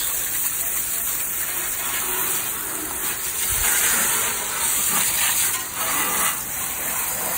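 A vehicle being washed gets a steady, close hiss of spraying water that rushes continuously, rising slightly as the jet moves around the bodywork and wheels.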